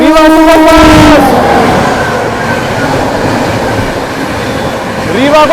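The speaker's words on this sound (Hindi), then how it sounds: "ये है अपनी VVIP प्रयागराज एक्सप्रेस" The 12417 Prayagraj Express roars past on a parallel track during an overtake, loud and close with rattling wheels and a strong horn blast at the start, then a steady rumble and a squeal near the end.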